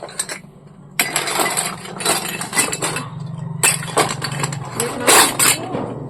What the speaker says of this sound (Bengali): তা এই দেখো রান্নাবাটি সেট নিয়ে এসছে।